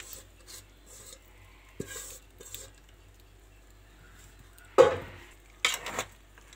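A large vessel holds 10 to 18 kg of chopped mangoes being stirred for homemade pickle, giving a few scattered scraping and rubbing strokes, quiet at first, then two louder close scrapes near the end, with no talking.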